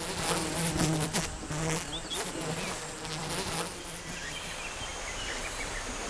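Honeybees swarm and buzz around a hive set near a cliff in the DMZ border area, a steady dense hum of many wings held close and loud throughout, with no talking.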